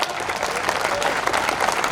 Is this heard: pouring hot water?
no